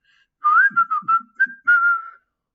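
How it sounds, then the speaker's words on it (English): A boy whistles like a bird, a short clear tune of about six pitched notes, some gliding, others quick and clipped, close and alone against silence. "Tom walked along the street, whistling like a bird"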